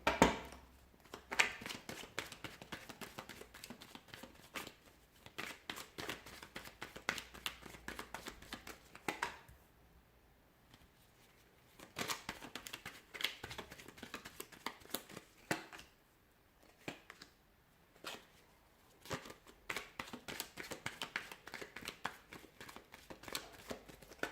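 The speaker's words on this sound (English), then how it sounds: "let's give the cards a shuffle and begin" Rapid riffling bursts of tarot cards being shuffled, repeated several times with short pauses between, close and fairly quiet.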